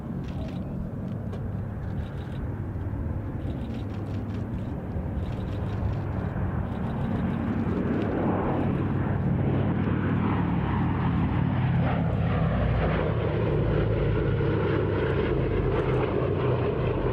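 A Boeing B-17 bomber's propeller engines drone at an airshow at Duxford, a loud, sustained rumble with a rising and falling sweep as the aircraft passes.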